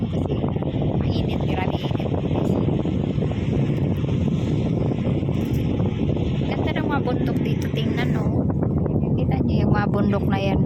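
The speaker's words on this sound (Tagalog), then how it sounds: "Lakas ng hangin, sarap ng hangin." Strong wind roars steadily across the microphone on a pier surrounded by mountains, loud continuous buffeting with faint talk underneath.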